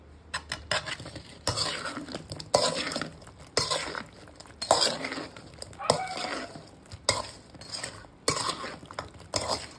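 Gobi manchurian is stirred with sauce in a pan, with repeated scraping clinks of a utensil against metal in uneven bursts and a faint sizzle beneath.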